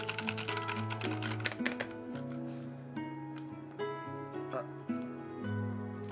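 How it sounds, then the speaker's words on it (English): Typing on a KBDFans Tofu 96 keyboard fitted with NK Cream switches and NP profile keycaps, a steady patter of keystrokes mixed under music and a talking voice. "Let's go do a quick typing test."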